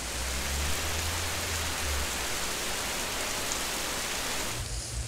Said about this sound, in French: Il faisait un temps magnifique, j'avais des problèmes de surexposition, et d'un coup, le déluge.